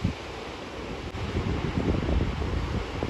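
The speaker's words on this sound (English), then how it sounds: "it's getting cold, it's getting windy." Steady wind buffets the microphone with a low, rumbling roar, like gusts near open water on the California coast along Highway 1, with no voices.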